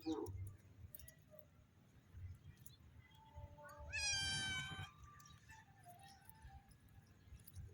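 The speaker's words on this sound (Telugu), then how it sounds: "మా పిల్లి ఎప్పుడు పైకి రాగానే వస్తూ ఉంటుంది" A single drawn-out cat meow rises clearly in the middle, fairly close, amid a quiet room with faint background noise before and after.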